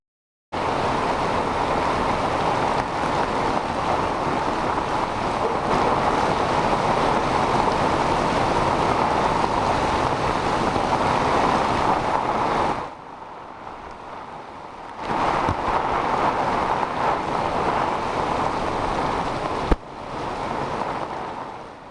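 Strong wind from Cyclone Fengal gusts in Puducherry during heavy rain, a loud continuous roar with brief dips and a sharp knock near the end, and no voices.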